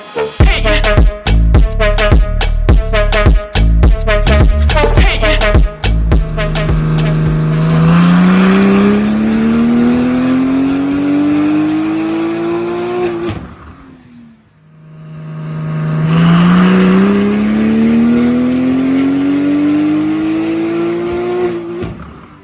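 A loud, powerful tuned Porsche 991.2 engine on a dyno, running on 95 fuel, blips through several sharp revs, then climbs in long, rising pulls to a high-pitched scream, drops off, and winds up again.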